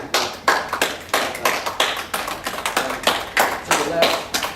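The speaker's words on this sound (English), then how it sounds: "shut your eyes and clap your hands in front of you." Audience members clap their hands in a loose, uneven series of sharp claps, close and fairly loud, with a voice speaking over them at times.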